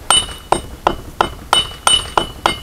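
A hammer strikes metal eight times at an even, steady pace during first-time knife forging at a blacksmith's forge, each blow a sharp, ringing clink, loud and close with no talk over it.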